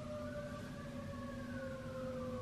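A fire and rescue truck siren wails steadily as it passes by, a sustained wavering tone with a faint drop in pitch, fairly distant and continuous over low traffic rumble.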